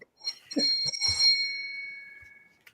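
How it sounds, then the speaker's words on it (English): A phone ringing with a bright bell-like electronic ring that sustains and fades, after a few brief knocks and noises in an otherwise quiet room. "That's my phone, and I'm going to decline it."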